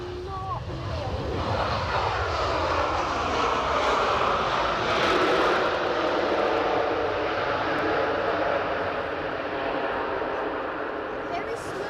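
Ryanair airliner landing at Edinburgh Airport, a loud sustained jet engine roar rising and holding steady as it passes, heard from outside with voices faint beneath.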